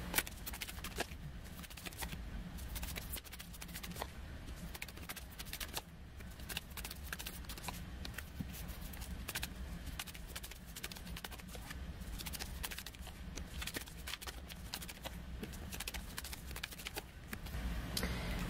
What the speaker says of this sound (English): I'm going to pull these oracle cards